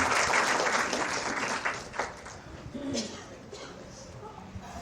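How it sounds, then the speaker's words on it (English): Applause from the audience at a university symposium in Vanuatu, a steady wash of clapping that is loudest at the start and then thins out and fades, with a few voices audible under it. "Please give her another round of applause for so much courage and bravery."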